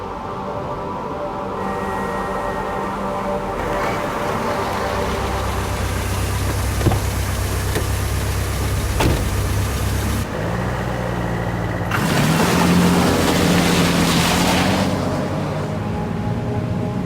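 A car engine in a Tomb Raider cutscene idles and runs steadily throughout with a low continuous drone, rising into a louder, rougher rumble near the end, with no voices over it.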